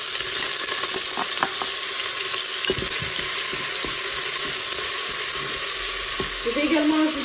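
Onions fry in olive oil inside a Cookeo multicooker with a loud, constant sizzle and crackle, joined by occasional scraping and stirring knocks close by.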